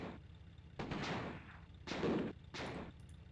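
Bursts of gunfire from soldiers in the World War II strategy game Sudden Strike Gold, three separate crackling volleys of shots with short gaps between them, fairly quiet.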